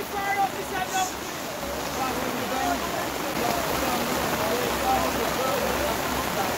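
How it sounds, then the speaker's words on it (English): Steady rain patters and hisses across the whole stretch, a broad wash of falling water with faint bird calls and distant activity in the background. "People, it's raining"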